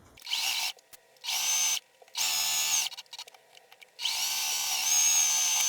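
A sewing machine stitching fabric for a bunny-shaped basket runs in four loud, close whirring bursts of about a second each, separated by brief pauses with faint handling noises.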